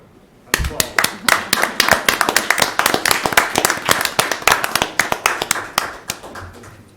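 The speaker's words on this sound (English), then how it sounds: "That deserves an applause." Sparse, distinct hand claps ring out at a county board of commissioners meeting, a small group applauding in a room with crisp individual claps at an irregular rhythm, fairly close, then tapering off.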